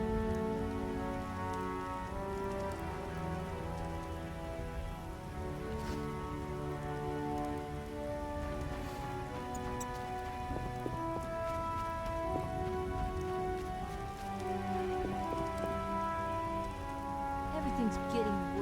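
Rain falling in The Witcher video game, a soft steady patter of drops on surfaces under layered sustained game music, continuous and fairly quiet.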